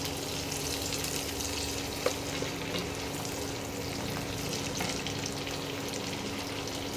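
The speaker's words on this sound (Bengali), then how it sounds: "পেঁয়াজটা ভাজা ভাজা হয়েছে, এর মধ্যে একটা টমেটো কুচিয়ে দিলাম।" Chopped tomato frying with browned onions in a pan for restaurant-style chili chicken, a continuous even sizzle with a couple of small clinks, no talk.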